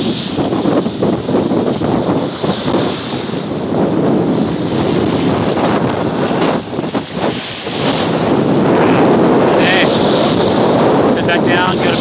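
Gale-force wind at Coldwater Lake near Mount St. Helens, roaring steadily and loudly across the microphone with heavy buffeting, while waves wash along the shore beneath it.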